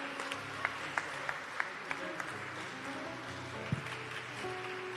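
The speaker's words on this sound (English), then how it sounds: "Can we give him another round of applause?" Steady applause from a conference audience, a dense wash of many hands, with a few sharper individual claps popping out and a low hum underneath.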